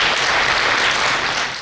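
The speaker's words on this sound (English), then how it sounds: "Let's give a big round of applause to all our students." A loud, dense wash of audience applause at a kindergarten graduation ceremony at St Aloysius Gonzaga School in Mangaluru, steady and close for the whole short stretch.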